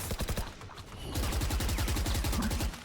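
Rapid automatic gunfire rattles in a professional Valorant league match, with a short burst at first and then a longer, steady stream of close, loud shots.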